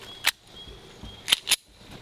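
A SCCY CPX-2 pistol fired in a function test, with three sharp, loud reports: one single shot, then a quick pair about a quarter second apart, outdoors with no talking.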